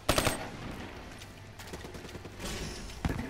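Gunfire from a shooter video game match against bots, with a sharp burst at the start, scattered shots through the middle and another loud crack near the end over a noisy battle background.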